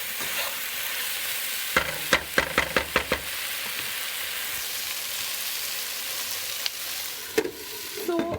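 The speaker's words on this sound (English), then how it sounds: "I'll cover the pot so that the okra cooks fast with the onions and other ingredients and masala." Okra cooks with onions and masala in a pot, with a soft sizzle, then a quick run of metallic stirring scrapes and clatters, a later single clank, and a lid going on.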